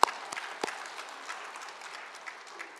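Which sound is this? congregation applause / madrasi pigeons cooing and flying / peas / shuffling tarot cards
congregation applause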